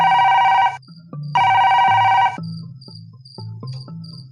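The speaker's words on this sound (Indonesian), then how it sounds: "telepon di ruang itu berdering dengan keras sekali" A loud electronic telephone ring sounds in two long bursts with a pause between, followed by lower clattering and knocking sounds.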